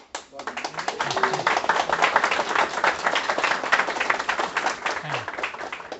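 Audience applause for the speakers at a PHP tech talk, a dense, steady wash of many hands clapping that swells quickly and carries on throughout, with voices faintly mixed in.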